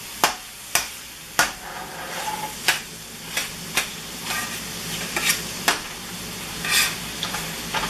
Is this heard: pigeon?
no